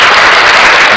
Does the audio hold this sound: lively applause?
yes